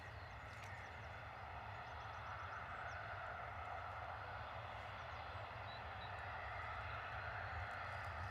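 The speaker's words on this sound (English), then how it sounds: "And we've got another EasyJet A320 coming down towards us" EasyJet Airbus A320-214 jet airliner with sharklets taking off at Bristol Airport in a crosswind, a faint, distant, steady engine roar that swells gradually, with no talk.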